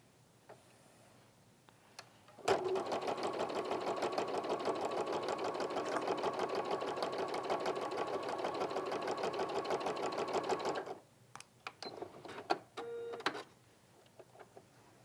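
A sewing machine stitches two pinned pieces of fabric together, its rapid needle clatter running steadily for about eight seconds at close range before stopping, with a few short handling sounds after.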